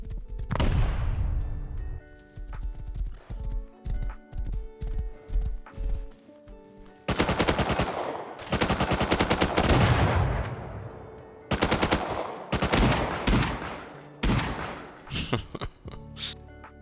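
An MP5 submachine gun fires in the survival game Rust: loud bursts of automatic shots come in several separate volleys, with shorter single cracks and quieter gaps between them, some hoof-like clatter mixed in.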